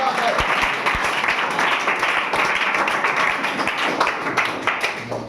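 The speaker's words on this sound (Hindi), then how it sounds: "ताली हो जाए, क्या बात है।" A class in a quiz competition applauds a correct answer with sustained, fairly loud clapping from many hands, and voices mixed in under the applause.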